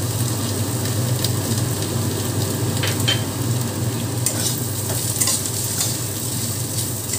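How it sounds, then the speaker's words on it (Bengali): Teasel gourd and potatoes frying in oil in a pan as poppy seeds are added, giving a steady close sizzle with occasional stirring scrapes and clinks, loud and continuous with no talking. "ভাজাটা আমার প্রায় হয়ে এসছে, এবারে দিয়ে দিচ্ছি আমি পোস্ত"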